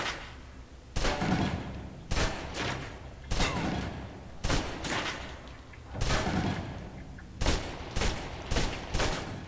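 Submachine gun bursts from the Alpha Protocol game come in short, loud, repeated volleys of roughly a second each, separated by brief lulls, with no speech over the firing.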